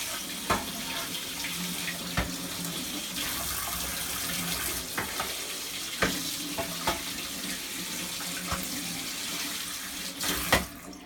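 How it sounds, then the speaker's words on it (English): Running tap water rinsing a strainer used for medical leeches, a continuous splashing flow into a sink, interrupted by occasional knocks and clinks of the strainer, close and moderately quiet, with no speech. "And then last thing I do is wash my strainer."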